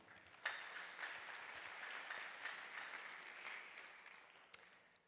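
Audience at a missiology school graduation applauding, a soft, distant-sounding spread of clapping with a couple of sharper claps near the start and end, fading gently toward the close.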